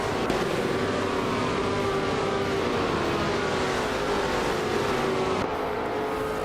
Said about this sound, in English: the race at Tor Poznan is underway, and on pole we have Steve Jumper in a classic 1966 McLaren M10